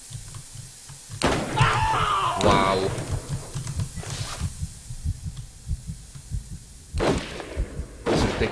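Gunshots in the video game The Culling, several loud, sharp shots spaced seconds apart over a thumping heartbeat-like pulse, with a brief voice in the mix.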